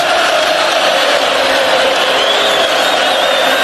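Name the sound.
Florida State fans' tomahawk chop chant in the stadium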